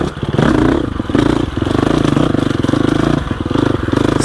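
A 2021 Gasgas EX 350F dirt bike in second gear lugs over loose rocks, its engine droning steadily up close with rhythmic pulsing and clattering as the tyres scrabble across the stones.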